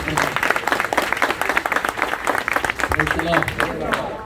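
An audience at a rosary prayer gathering claws out a dense burst of applause, many hands clapping together at close range while voices carry over it.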